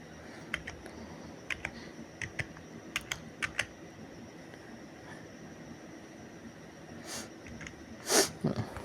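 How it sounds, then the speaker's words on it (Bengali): A computer keyboard is tapped to enter a web search, giving clusters of quick, close key clicks in uneven bursts over a low room hiss, ending with a louder sharp clatter; nobody speaks. "বিজনেস লিখে দিই।"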